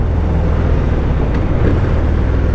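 A 2019 Harley-Davidson FXDR 114 motorcycle rides through a corner, with a loud, steady, wind-heavy rumble and no pauses or change in pace.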